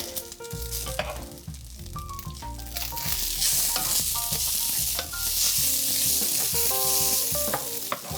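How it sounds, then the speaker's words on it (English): Cabbage sizzling as it is stirred into wild rice in a hot pan with tongs, steady frying hiss with repeated scraping and tossing, loud and close with no talk. "I will add cabbage to the wild rice"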